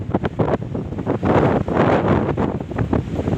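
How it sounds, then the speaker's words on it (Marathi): Heavy wind buffets the microphone on Shrivardhan beach during strong rain, with Arabian Sea waves surging and washing in beneath a loud, continuous roar. "समुद्रावरती लाटा येत आहेत वरून जो काही पाऊस सुरू आहे"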